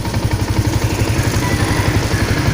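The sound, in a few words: clutched motorcycle engine running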